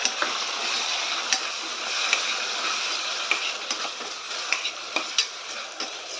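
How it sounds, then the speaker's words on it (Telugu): Tomatoes, onions and ginger-garlic paste sizzle and fry in a pan over a medium flame while being stirred, a steady hiss broken by sharp ticks and scrapes of the spoon against the pan. "టమాటో వేసుకొని కొంచెం బాగా కలిసేలాగా తిప్పుకోండి."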